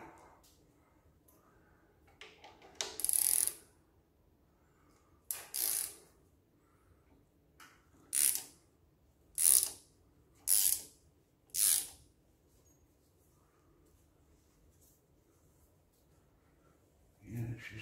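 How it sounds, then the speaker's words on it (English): A harmonic balancer puller at work removing the balancer from a 5.9 Magnum engine during teardown, giving a series of sharp, loud ratcheting clicks in short bursts separated by quiet pauses, close by with no talk. "Now that may not be the prettiest harmonic balancer puller in the world, but it should work."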